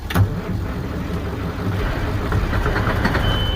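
A lowboy truck's engine strains in cold weather, a loud, heavy, continuous rumble with a sharp thump at the start and steady labouring throughout.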